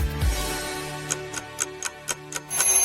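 Clock ticking in an even, steady rhythm, faint and clear over a low background hum, before a brighter ringing tone begins at the end, with no talking.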